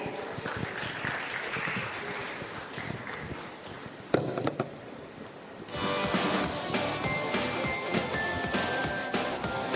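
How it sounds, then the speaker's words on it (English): An audience at a conference on ships and maritime technology claps during a token of appreciation ceremony, a scattered patter that grows denser and louder halfway through, with a few sharp knocks mixed in. "Let's keep the clap going on, everybody."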